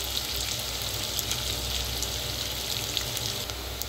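Onion sautés in a steel pot for a vegetable pulao, giving a dense, even sizzle that holds close and steady with no voices.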